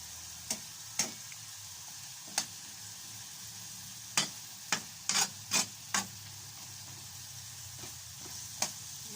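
Chicken and broccoli cooking in a pan with little broth, a faint low bubbling hiss punctuated by a series of sharp utensil clicks and scrapes, close up, with no talking.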